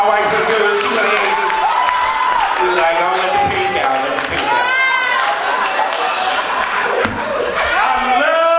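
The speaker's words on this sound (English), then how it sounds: "Give a big round of applause for my wife, sister." Audience applause at a Friday night showcase of spoken-word poetry and comedy, a steady wash of clapping and crowd noise mixed with cheering and voices over a room's ambience, with a host talking over it.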